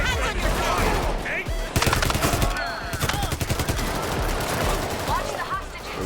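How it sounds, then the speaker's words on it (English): Rapid bursts of automatic gunfire in the heist shooter PayDay 3, loud sharp volleys clustered mid-clip, with a voice talking over the shooting. "he's definitely new because he's shooting all of the hostages"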